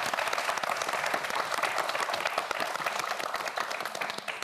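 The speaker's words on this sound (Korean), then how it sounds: "여러분 큰 박수 부탁드립니다" Studio audience applause on a Korean television quiz show, a continuous crackle of many hands clapping evenly throughout, heard from a moderate distance with no talk over it.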